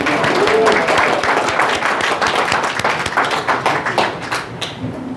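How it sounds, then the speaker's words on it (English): A conference audience applauds with a dense patter of clapping hands that stays steady for several seconds, then slowly thins out. "let's give them all a round of applause."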